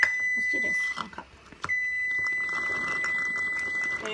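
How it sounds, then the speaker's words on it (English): A kitchen timer, set while milk tea and boba are being made, beeps in a steady, high, continuous electronic tone through most of the clip after a brief gap, with faint kitchen clatter around it. "This timer done."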